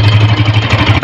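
A motorcycle engine runs steadily close by with a low, throbbing idle and an abnormal clattering knock beating through it, heard from the clutch side.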